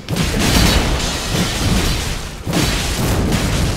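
A bomb goes off in a video game, a loud, close booming roar that swells, briefly drops out, and then rumbles on again.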